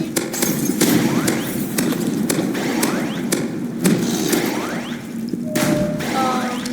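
Repeated RPG rocket blasts in a 2v2 shooter game thump in quick succession, sharp booming hits scattered over steady game background noise.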